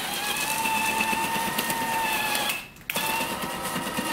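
Electric chute motor on a SnowJoe iON18SB-HYB 18-inch snowthrower rotating, a steady whirring hum that pauses briefly partway through, then resumes, close and alone.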